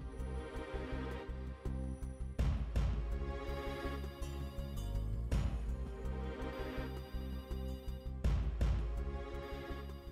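A telephone rings unanswered in a drama scene, heard as a repeating electronic ringtone loop that restarts every few seconds over a dense, steady music bed.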